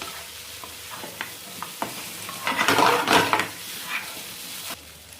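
Mutton chops being mixed with masala and coriander in a frying pan: a continuous sizzle punctuated by spoon scrapes, building to a louder burst of frying and stirring midway before easing off, close up.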